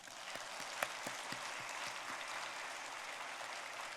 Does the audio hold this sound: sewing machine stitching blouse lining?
no